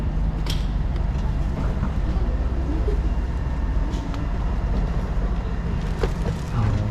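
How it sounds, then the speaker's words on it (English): A train rolls toward Tyholt in Trondheim, Norway, heard from inside the carriage. A steady low rumble of wheels and running gear carries faint knocks and rattles throughout. "Gonna take the train back to Tyholt."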